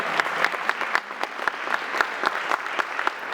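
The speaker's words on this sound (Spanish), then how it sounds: "Un aplauso para" Audience at a school inclusion event applauding a staff member, with steady clapping that carries throughout and sharp individual claps standing out against the dense sound of the crowd.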